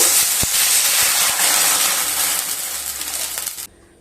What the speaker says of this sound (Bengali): ওই কড়াইতেই কিছুটা জল দিয়ে দেব